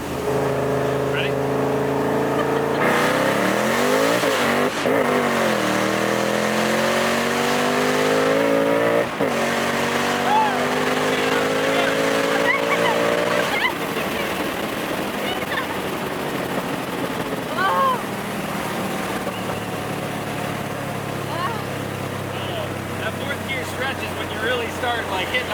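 Frankenstein Coyote-engined car pulling hard through the gears, a loud rising engine note climbing in repeated sweeps with gear-change breaks, then fading to a lower roar, with voices talking and cheering over it.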